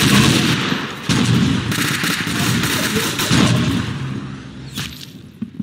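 Rapid bursts of gunfire crackle and boom continuously, loud and dense, with sharp reports overlapping into sustained volleys before fading near the end.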